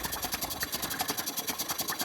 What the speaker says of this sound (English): It's flooding the engine basically.